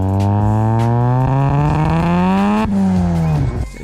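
Exhaust note of a classic 1980s Ford fitted with a Mazda turbocharged rotary engine, a loud, buzzy, harmonic-rich drone that climbs steadily in pitch, dips sharply, then rises again as revs change.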